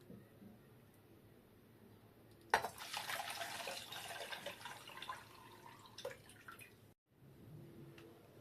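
Water and sugar poured into a pot to make syrup for compote, a splashing pour that begins abruptly, runs for a few seconds with trickling, then stops, over a quiet kitchen background.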